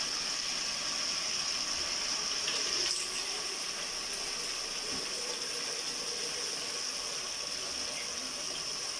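A steady stream of water, three glasses, pours and gushes continuously into a cooking pot for chicken haleem, filling it without pause; no voices.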